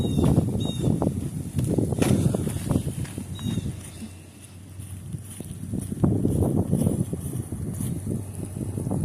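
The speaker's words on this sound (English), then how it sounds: "It's very windy." Strong wind buffets a microphone outdoors during a March thunderstorm in Canastota, New York, a loud rumbling roar that surges, dips briefly in the middle, then rises again.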